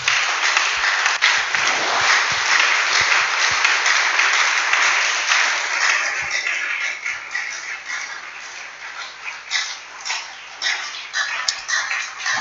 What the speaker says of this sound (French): Acclame plus fort pour la gloire de Dieu.